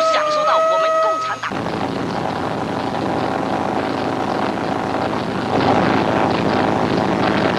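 Propeller aircraft droning overhead in a 1950s Malay film, a steady loud engine roar filling the clip after a brief burst of music at the start.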